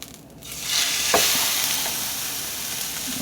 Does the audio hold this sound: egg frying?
yes